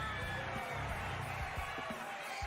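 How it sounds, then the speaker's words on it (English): A wrestling arena crowd cheers and chants for Kevin Owens, a dense, steady roar of many voices with rhythmic shouted bursts throughout. "Crowd got super into that."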